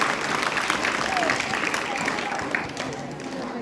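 An audience at a school Teachers Day program claps in steady, dense applause, with a voice speaking over it from a microphone.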